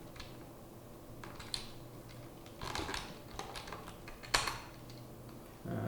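Keys tapped on a computer keyboard to enter a colon, W and Q in a Linux text editor, a few scattered clicks and short bursts of typing with gaps between them, close and moderately loud, no voices.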